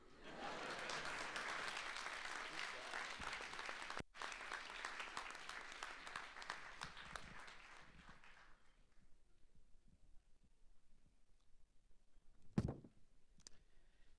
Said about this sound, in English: can we give our distinguished speakers another round of applause?